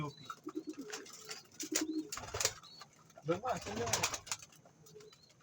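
A pet racing pigeon at a fancier's loft coos in soft, repeated rounded calls, with a few chirps and brief bursts of wing noise between them, while someone talks nearby.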